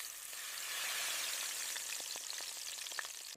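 Pork belly chashu tied with butcher's twine searing hard in a hot pan, a loud steady sizzle and hiss with scattered crackling pops, close up.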